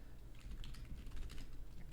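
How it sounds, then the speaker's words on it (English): Rapid computer keyboard typing fills the whole two seconds, a steady run of close, crisp key clicks with no talk over it. "I don't know if I'm typing Maze's username wrong"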